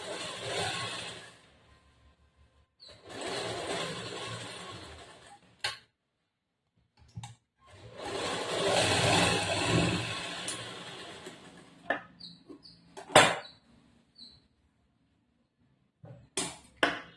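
A sewing machine stitches a double seam on a plain blouse in several separate runs of whirring, with short pauses and small clicks and knocks between them.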